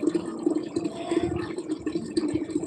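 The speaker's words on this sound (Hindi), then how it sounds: "ये भर रही हूँ दोस्तों बाल्टी में" Water pouring into a bucket from a tap or pipe at home, a steady gurgling, splashing fill at moderate volume, close by for a few seconds with no talking.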